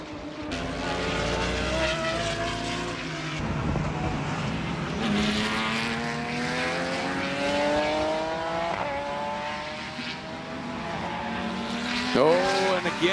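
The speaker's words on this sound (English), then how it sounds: "Chakran using the horsepower of that Corvette, gets around to Tuati" Race cars, including a Corvette, roar past at Homestead-Miami Speedway during the FARA Miami 500, engines rising and falling as they pass, with brief tire squeals and a commentator talking over them.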